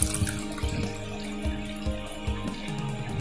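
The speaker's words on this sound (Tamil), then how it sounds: "தேவையான அளவு தண்ணி ஊற்றிக்கலாம்." Water runs and splashes steadily into a container for a summer drink, with soft gurgling and a few clunks, close by.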